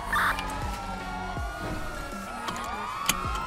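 A police car siren in GTA 5 wails with rising and falling sweeps, fairly faint and steady under a low engine hum, with a few brief clicks and thumps from the game.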